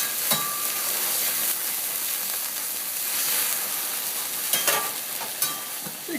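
Onions sizzling on a fiery grill in a steady, loud frying hiss, with sharp clanks of a metal utensil scraping and stirring at a few points, and no voices.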